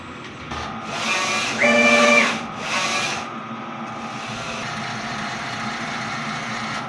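A DTF printer runs a nozzle test nearby, a steady mechanical whir broken by two louder bursts of carriage movement, one carrying a brief whining tone, before it settles back into an even hum.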